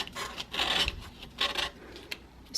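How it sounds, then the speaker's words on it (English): Coarse side of a nail file rasping across a wooden tray, several short scraping strokes in an uneven rhythm, close and fairly loud, with no talking. "I take my nail file, and usually I do the rough side first just to scrape"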